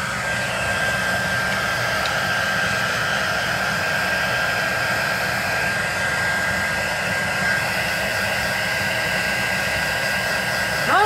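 Hair dryer blowing on watercolor paint on paper, a loud, steady whooshing roar with a faint whine that runs unbroken for about eleven seconds, heard alone without talk.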